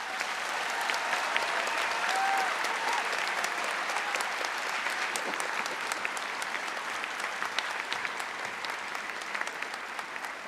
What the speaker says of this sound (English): could you take a moment just to applaud and to thank them?